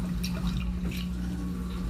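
Home-brewed beer pours from a bottle, giving a brief soft liquid splash and trickle with a couple of small drip-like bursts, close and fairly quiet.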